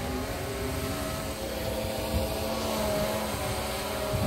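A DJI Phantom P330D quadcopter drone hums steadily in strong wind, its motor whine continuous and mid-loud with wind buffeting blended in and no speech.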